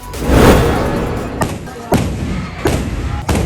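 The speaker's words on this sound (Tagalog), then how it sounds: "ang liwat nga pagsigabong sa mga kanyon" Cannons fire during a street celebration of Al Cinco de Noviembre in Bago City, a heavy boom followed by several spaced thuds echoing over a loud crowd.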